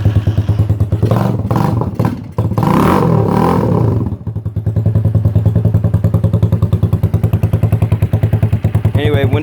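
1974 Honda XL125 motorcycle engine kicked over with clattering and thumps, then settling into a loud, steady, close idle with a rapid even putter.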